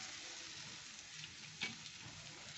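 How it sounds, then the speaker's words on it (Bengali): Raisins are stirred into a curry frying in a pan, giving a steady close sizzle with a brief scrape of the spoon midway. "কিশমিশ দিয়ে দিলাম, একটু নেড়ে চেড়ে নিই।"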